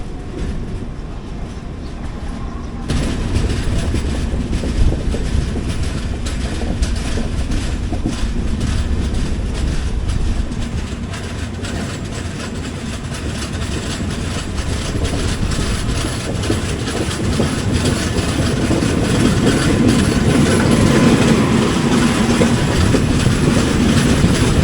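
The Latur Bidar Express passes close by in India, a loud continuous rumble of wheels and wagons with rhythmic clatter building steadily and growing rougher toward the end.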